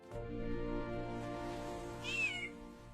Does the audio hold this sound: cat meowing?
yes